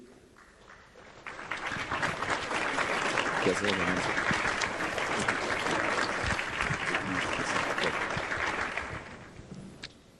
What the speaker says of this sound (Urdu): تالیاں. ہمارے 3 نئے گیسٹ ہیں.